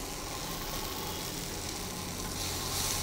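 Four garlic cloves fry in hot oil in a pan for drumstick sambar, making a steady, dense sizzle that stays constant and fairly close, growing slightly brighter toward the end.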